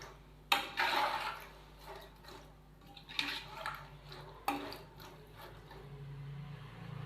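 Black chickpea curry stirred with water in a pot, giving a few spoon scrapes and knocks against the metal with sloshing liquid in between, moderately close and fairly quiet.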